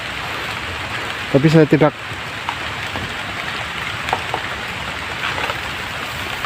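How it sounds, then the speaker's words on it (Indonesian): Steady rain falling on foliage and ground in a remote jungle, a continuous hiss throughout with a brief burst of a voice in the middle. "Sepertinya rintikan hujan semakin deras"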